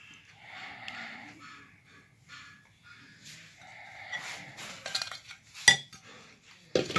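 Coarsely ground pickle masala is mixed with mustard oil for a spicy mixed-vegetable pickle. A spoon scrapes and clinks quietly against the bowl, building to a few sharper clinks near the end.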